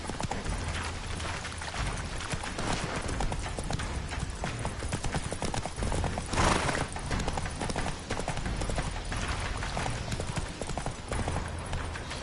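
In The Witcher 3, the horse Roach gallops with fast rhythmic clip-clop hoofbeats running continuously over game ambience, a brief louder burst midway, with a faint voice now and then.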